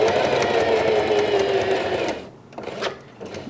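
A domestic sewing machine stitches a simple pet bandana in a steady fast whir for about two seconds, then stops, leaving quieter handling noises of the fabric and presser foot.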